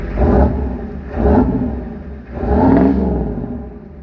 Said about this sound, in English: I'm trying to rev it up.